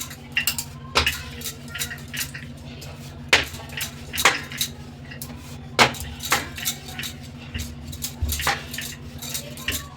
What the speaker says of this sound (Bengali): এটা আমি তেল দিয়েই বেলবো দিয়ে এবার এটা বেলে নেব